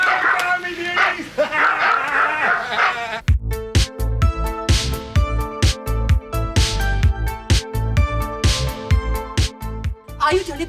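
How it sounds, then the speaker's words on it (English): Several dogs bark in a rhythmic run of loud, close barks, following a few seconds of voices and mixed sound at the start. "the dogs bark, they bark for you"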